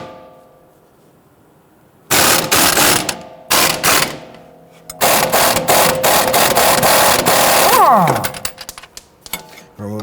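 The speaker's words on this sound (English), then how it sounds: "we're going to use a 21mm socket to loosen and remove our sway bar end link nut" Ratchet with a 21mm socket working loose a sway bar end link nut in the front wheel well of a Dodge Charger, loud rapid clicking bursts in several separate runs, close up.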